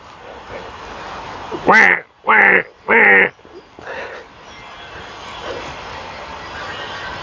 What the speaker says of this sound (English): Oh, there's some crows.